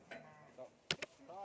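A Mundri sheep gives several short, soft bleats with pauses between them, along with a pair of sharp clicks, in a quiet outdoor setting.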